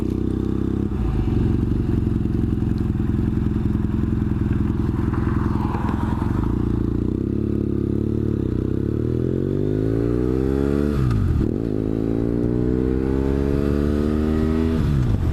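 A motorcycle engine runs loud and close throughout, rising and falling in pitch as the rider shifts and revs.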